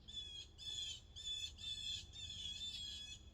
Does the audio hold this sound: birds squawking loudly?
yes